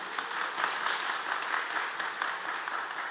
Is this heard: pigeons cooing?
no